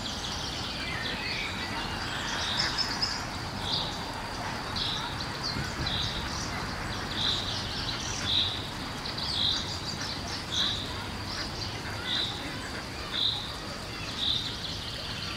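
Bird songs ring out over a low outdoor ambience, with a repeated chirp sounding at a steady, evenly spaced rhythm in the second half and softer calls earlier.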